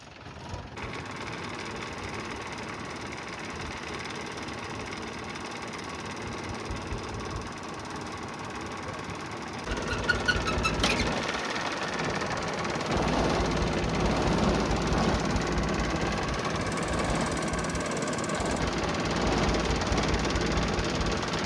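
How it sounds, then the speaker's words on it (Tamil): A tractor sowing groundnuts in a village field, a continuous mechanical engine drone with rattling that grows louder and rougher about halfway through, heard without talking. "டிராக்டர் வந்து பார்த்திங்கன்னா கடலை போட்டுட்டு கிளம்பிடுச்சு."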